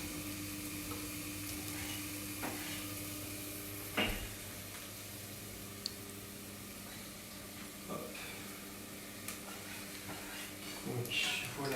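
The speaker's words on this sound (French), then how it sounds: "Les oignons qui commencent à suer un petit peu" Onions sweating gently in a pan for a squid risotto, producing a quiet continuous sizzle and hiss with a few faint utensil taps, under intermittent speech.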